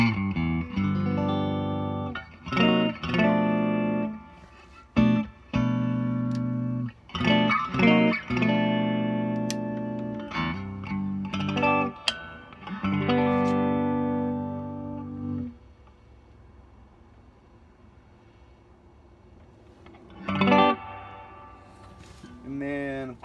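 Single-coil electric guitar through a 1974 Music Man Sixty Five amp played in bursts of strummed chords and picked notes, a clear, full tone with some reverb, ending in a quieter pause and one last short phrase.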